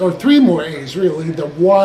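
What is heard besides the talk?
No everyday noises stand out.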